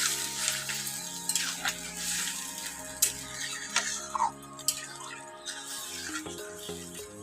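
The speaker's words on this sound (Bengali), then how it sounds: "এখন আমি সামান্য পরিমাণ জল অ্যাড করে দিব" A little water goes into a pan of mukhi kochu (taro) being cooked down, bringing a soft sizzle with scattered ticks and stirring clinks against the pot, fairly quiet and close.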